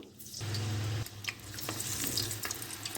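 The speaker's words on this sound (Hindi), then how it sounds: "अब इसकी फ्लेम जो है हम थोड़ी सी लो कर देंगे और इसमें अपनी फ्राइज डालेंगे।" French fries going into hot oil in a kadai, a dense close bubbling sizzle that starts abruptly and holds steady with small crackles, no speech.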